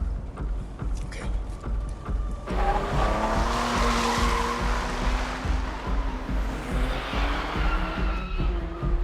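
A car drives hard with its tires skidding and squealing, a loud, sustained screech over steady engine rumble that rises and wavers, with no voices.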